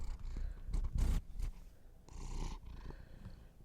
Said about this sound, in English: Can you hear us purring?